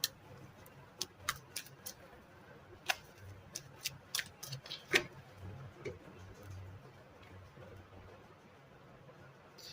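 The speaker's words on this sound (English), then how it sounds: "Three shuffles." Tarot cards being shuffled, heard as scattered sharp clicks and snaps that come in irregular bursts, quiet against a low background.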